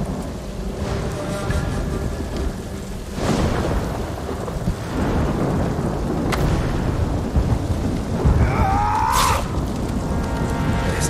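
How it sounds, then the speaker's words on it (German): In the Ghost of Tsushima storm, lightning strikes crack and boom repeatedly over constant driving rain, with a few distinct loud thunderclaps rolling out near the start and middle and a sharper strike toward the end. "Natürlich schlagen da jetzt überall Blitze ein, damit es brennt."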